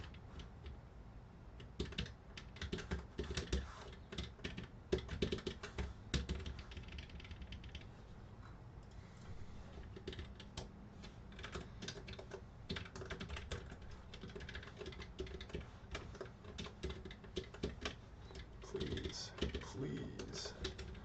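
Computer keyboard typing during C programming work on a 2D engine, a steady run of fast close key clicks with brief pauses, with faint speech at times.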